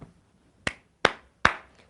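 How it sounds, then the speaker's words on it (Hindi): Three sharp hand claps ring out one by one at an even, unhurried pace in a quiet room during a religious discourse, each clap crisp and close with a short decay. "ये जो ताली बज रही है"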